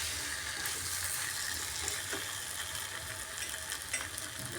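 Potatoes fry with spices in a pan for vegetarian alur dum, a steady, fairly quiet sizzle with faint stirring scrapes and no talking.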